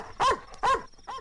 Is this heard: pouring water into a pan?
no